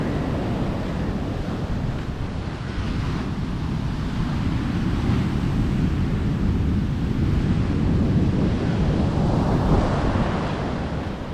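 Heavy sea surge on the Vadanappally coast, where the sea has wrecked the road and is flooding houses. The surf roars continuously and loudly with no break, mixed with gusting wind buffeting the microphone.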